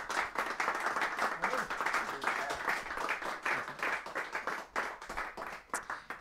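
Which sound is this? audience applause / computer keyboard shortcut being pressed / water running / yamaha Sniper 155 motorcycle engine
audience applause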